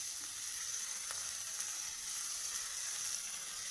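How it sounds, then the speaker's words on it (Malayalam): Small shallots and onions sautéing in a pan for a meatless masala, a faint, steady sizzle with a few soft stirring ticks, no voices. "സവാള ഇടാം നമുക്ക് ഇത് നന്നായിട്ട് വഴന്ന് വരണം"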